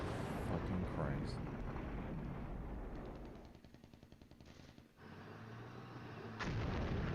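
Artillery fire in the wargame Flashpoint Campaigns: repeated heavy booms and rapid gunfire bursts in a dense, loud battle mix, easing briefly mid-clip before a fresh blast, with voices underneath.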